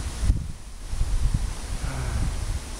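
Wind gusting outdoors through rustling leaves, a steady soft whooshing hiss with a brief stronger gust at the start, no voices.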